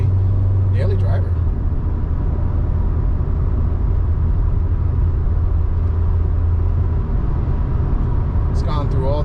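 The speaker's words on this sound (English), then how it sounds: "I'm just gonna give it just light acceleration" Cheap daily-driver car pulling away under light throttle, its low engine hum rising gently as it moves up through the gears, heard from inside the cabin with someone talking over it.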